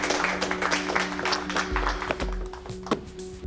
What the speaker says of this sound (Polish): Brawa, wszyscy!